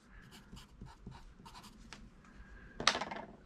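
A number 2 pencil writes on paper in short, close, quiet strokes, a light scratchy rhythm ending in one louder, brisker scribble.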